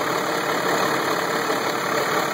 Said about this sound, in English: Fan's working good. Belt's working good. Good sounding engine.